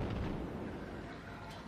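Heavy ship guns in World of Warships fire at an enemy Kuma with a low, booming rumble like distant thunder, a brief muffled roar that fades with no voices.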